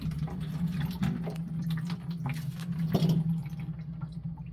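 Water drips and trickles from drained valves on cabin plumbing, a steady wet patter with a few brief louder splashes, close by and with no talking.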